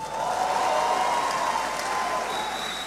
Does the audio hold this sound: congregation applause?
yes